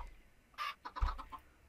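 Minecraft chickens give a few short clucks in a quick, uneven run, soft and fairly close, with no talk over them.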